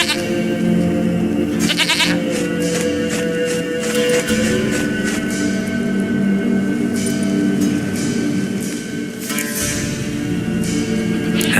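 A goat bleats repeatedly in The Witcher 3 video game, set in Velen, with loud, steady game ambience and music running throughout.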